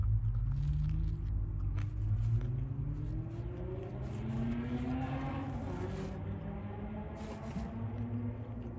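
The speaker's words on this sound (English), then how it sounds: "The car was just revving its engine." A car revving its engine outside, a drawn-out rising and falling engine whine heard from some distance, muffled and continuous, with faint background noise.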